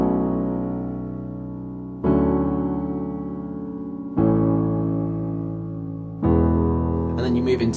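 Solo piano plays the chorus of a song as four full, sustained chords, each struck about two seconds apart and left to ring and fade, close and clear with no voices.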